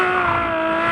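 A Ferrari F12 Berlinetta's V12 engine revving hard, a loud, close, sustained high-pitched howl with steady harmonic tone in a brief burst.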